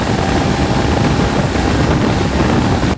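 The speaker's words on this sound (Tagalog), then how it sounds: "Pero lakasan ko yung pag-rev ko dito sa makina." Mitsubishi L300 engine revved hard in a workshop check for overheating, a loud steady roar with heavy rumble and hiss, sustained without breaks.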